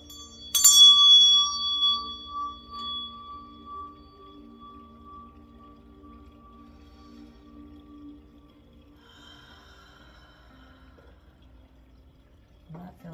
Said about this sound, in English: I'm going to ring my meditation bell.